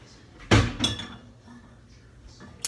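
A small cooking pan is handled in a kitchen, giving one sharp metallic clatter followed by a lighter clink, then a quiet stretch with faint handling noise and a brief knock at the very end.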